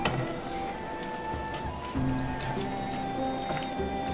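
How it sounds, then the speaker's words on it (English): Szechuan-style ground meat is stirred in sauce in a pan, giving soft wet squishing and light clinks of a utensil against the cookware, close up, with a faint background hum. "Stir a little bit more."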